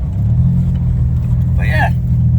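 A Buick's engine running steadily at an off-road park with a small convoy, a loud continuous low rumble throughout and a brief higher whine or voice near the end.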